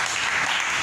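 Congregation in a church service applauding together, a dense, steady wash of many hands clapping for the whole short stretch, fairly close and full.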